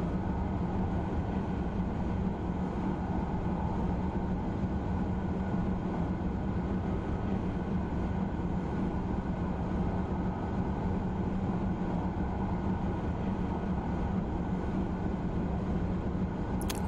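Steady, dense rumble of a high-speed train running on the LGV Méditerranée line in Train Simulator 2016, a constant rolling roar with no variation and no voices.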